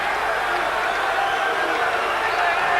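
A rugby stadium crowd in Durban voices its displeasure during a South Africa versus France test match, a broad, steady roar of many voices sustained at moderate loudness across the whole moment.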